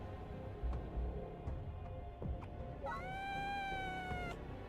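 A person imitates a cat with a drawn-out, falling meow near the end, set against a quiet background with a few faint clicks and no talk.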